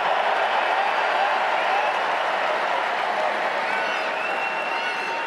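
A rugby stadium crowd cheers and applauds in a dense, sustained roar that holds steady throughout.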